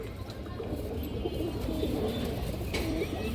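Low, soft cooing of an Indian Kaldom pigeon, a steady murmuring coo close by, with faint background noise throughout.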